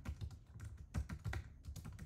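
Close, steady typing on a computer keyboard while text is entered into a Microsoft Word chart title, with rapid key clicks coming in quick irregular bursts throughout the short clip.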